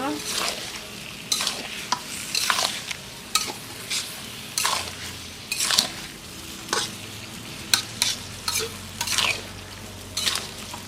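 Buffalo meat curry is stirred in a pan: repeated scraping strokes of a spoon against the metal, spaced about every second, over a low, steady sizzle, close and clear with no talking.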